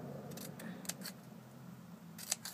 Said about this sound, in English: I'm going to just take my scissors and I'm going to